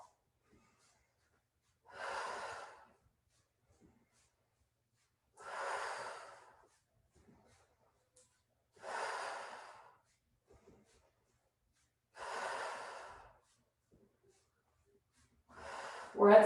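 Heavy, rhythmic breaths come during a floor stretching exercise, five slow exhales evenly spaced a few seconds apart, close and clear in an otherwise quiet room, with the last one louder and cut off.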